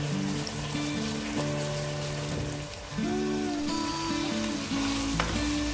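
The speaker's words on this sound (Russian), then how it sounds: "В большой кастрюле спассируем лук, морковь и чеснок в оливковом масле и добавим туда кусочки нарезанного" Steady sizzling and crackling of octopus pieces with onion, carrot and garlic frying in hot olive oil, with a constant hiss throughout and no voices.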